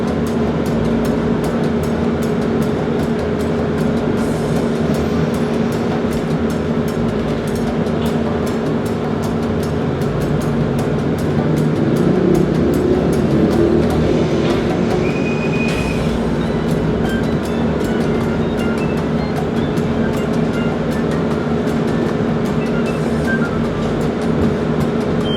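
A tram in Merida, Mexico rumbles steadily past at close range near a station, its low drone and clatter filling the whole stretch with a brief high squeal midway.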